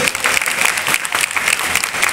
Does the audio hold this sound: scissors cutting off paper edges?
no